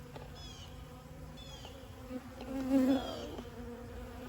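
Bees buzz close by in a steady droning hum that swells briefly near the middle, with one short spoken word and no other talk.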